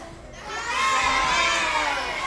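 A big group of children shouts at once at a church vacation Bible school, a loud, overlapping burst of excited voices that swells and holds like a cheering crowd.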